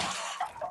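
Short, faint hoarse coughing from an infected zombie in Resident Evil Resistance, a couple of raspy bursts under game ambience.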